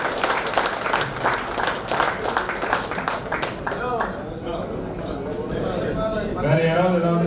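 Members at a meeting clap together in a round of applause that starts busy and fairly loud, then thins out as talking voices take over near the end.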